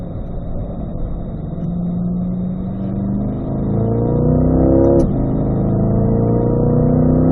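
A Chevrolet C8 mid-engine Corvette accelerates hard down a racetrack straightaway at a driving school, engine note climbing steadily through the gears toward fifth, loud and close throughout with a brief shift dip midway.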